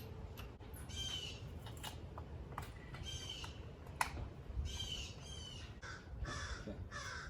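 Crows caw repeatedly outdoors in short, harsh bursts at irregular intervals, moderately distant over a low background rumble.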